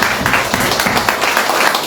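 Church congregation applauding during a worship service, steady dense clapping throughout with a faint voice underneath.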